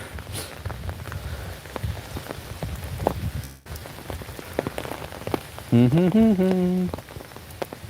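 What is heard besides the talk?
rain falling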